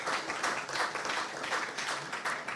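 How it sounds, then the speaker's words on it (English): Audience applause at a student defense hackathon award ceremony, a dense, steady patter of many hands clapping that fills the moment without voices. "Big applause."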